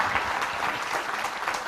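Audience applause fills a church retreat hall, a steady dense clatter of many hands clapping throughout, fairly close and continuous with no speech over it.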